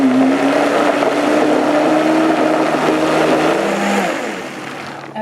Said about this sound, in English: I want you to blend it slowly, and then we're going to increase the speed